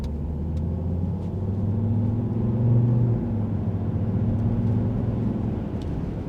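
Steady in-cabin drone of a 2011 Volvo XC60 with a 2.0 D4 diesel and Aisin automatic driving on the road, a continuous low rumble with mild swells, no talk.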